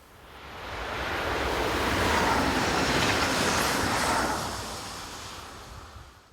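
A B81500 unit, number 620, runs a local train north from Orange past a village, its broad rushing roar building, holding steady, then fading away.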